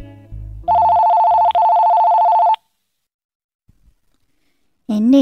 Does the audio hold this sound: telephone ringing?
yes